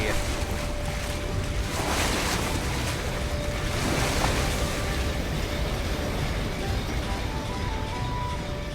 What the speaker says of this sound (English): On the open sea.